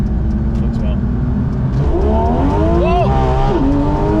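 A Porsche 911 GT3 RS Weissach launches and revs toward 9,000 RPM, a loud close engine climbing in pitch with gear changes, while people talk over it.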